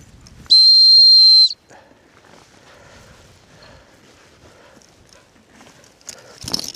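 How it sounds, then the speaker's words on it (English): A dog whistle gives one loud, steady, high-pitched blast about a second long during gundog training outdoors, followed by quiet rustling and faint footfalls. "we'll give him a go with the whistle and just see what he does"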